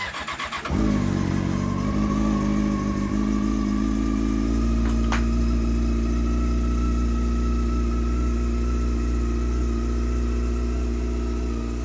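A 2004 Yamaha R6 motorcycle's fuel-injected engine starts up and settles into a steady, loud idle that rumbles on without a break, with one brief high click partway through.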